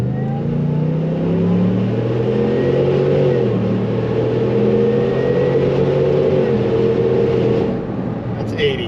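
A supercharged 2024 Cadillac Escalade pulls hard from a rolling start, its engine roaring and climbing steadily in pitch for several seconds inside the cabin, then easing as it shifts.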